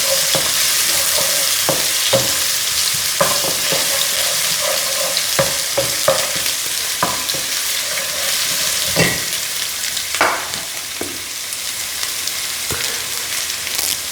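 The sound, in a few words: sautéing crushed garlic and ginger in a pan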